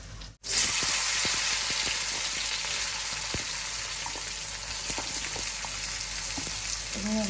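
Sliced bitter gourd and green chilies fry in a pan with a steady, close sizzle and occasional faint clinks of stirring.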